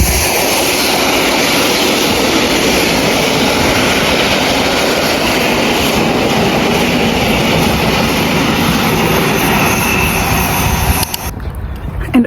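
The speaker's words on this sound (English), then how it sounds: "the train is coming" Train rolling past a walking trail in Poland, a loud continuous roar of wheels and rails with rhythmic clatter, close by and sustained until the last cars clear.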